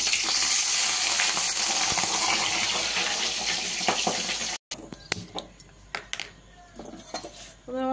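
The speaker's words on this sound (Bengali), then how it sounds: "মাছের মাথায় নুন হলুদ মাখিয়ে নিয়েছি, আমি এবার বসিয়ে দিচ্ছি ভাজতে" A fish head rubbed with salt and turmeric goes into hot oil, giving a loud steady hissing sizzle that breaks off into quieter crackles, pops and utensil clinks.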